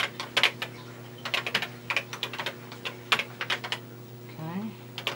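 Typing on a Tandy Color Computer 3 keyboard: close, rapid bursts of clacking keystrokes in uneven clusters over a steady electrical hum, with a brief voice near the end.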